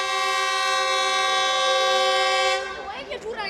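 Train pulling into a station on the Kaduna line in Nigeria, a loud sustained multi-tone horn blast for about two and a half seconds, then rumbling car and wheel noise as it arrives.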